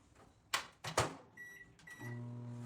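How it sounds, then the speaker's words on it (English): A microwave oven heating a Cuckool microwave heating pad: a few sharp clicks and thumps from the door and handling, short electronic beeps, then a steady low hum as the oven starts running. "depending on your microwave, you can put 2 or 3 minutes. I'm going to put 2."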